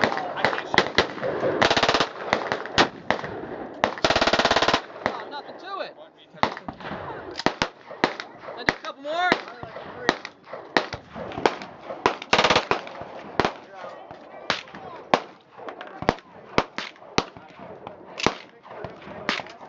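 A Serbu Super Shorty shotgun fires a rapid run of sharp, loud blasts and cracks, dense at first and then more spaced out, echoing close by.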